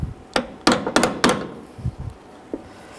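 Sharp metallic taps and knocks as hinge pins and bushings are driven into a 2002-06 Chevy Avalanche door hinge, several close strikes in an uneven cluster followed by a few softer, sparser thuds.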